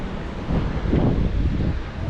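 Surf rolls in at Canggu beach in Bali, a broad low roar with strong wind buffeting the microphone that swells in the middle of the stretch and eases again, and no voices.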